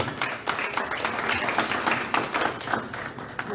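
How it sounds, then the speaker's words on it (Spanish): Church congregation applauding the Lord in the middle of a Spanish-language sermon, a continuous, moderately loud crackle of many hands clapping with individual sharp claps standing out throughout. "Denle un aplauso al Señor"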